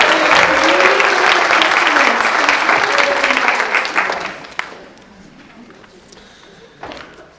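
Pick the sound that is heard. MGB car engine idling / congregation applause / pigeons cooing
congregation applause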